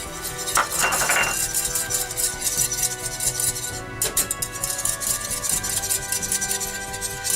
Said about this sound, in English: we're going to just add it while whisking it so all the chocolate is melted.